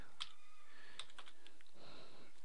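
Typing on a computer keyboard: a short run of crisp, close key clicks, irregular in rhythm, with no talk.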